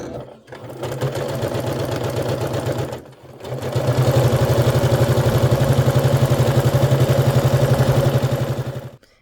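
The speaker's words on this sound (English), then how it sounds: "I'll take that to my machine and sew it together" A sewing machine chain-piecing quilt blocks with navy thread, running in fast, even stitching bursts close by: a short run, a brief pause, then a longer steady stretch before stopping.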